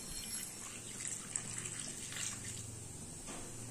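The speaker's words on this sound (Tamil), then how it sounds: "இந்த முருங்கைக்காய் வேகிறதுக்கு தேவையான அளவு தண்ணி சேர்த்துக்கலாம்." Water is poured into a cooking pan of drumstick (moringa) pieces, a soft, steady rush of liquid that runs continuously at low volume with no talking.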